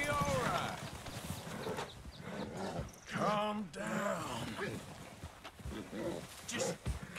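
Hooves of an Arabian horse clip-clop in Red Dead Redemption 2, a steady rhythm of hoof strikes running under busy game sound and a talking voice.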